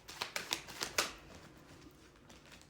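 Tarot cards are shuffled by hand in a quick run of crisp riffling snaps, close and quiet, then the sound trails off into soft handling.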